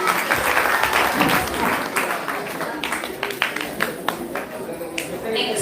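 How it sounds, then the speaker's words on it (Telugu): A crowd at a New Year celebration claps for performers after a skit, a loud, dense burst of applause that thins into scattered individual claps, with voices talking over it. "పర్ఫామ్ చేసినందుకు ఇంకొంచెం గట్టిగా క్లాప్స్ కొట్టాలి."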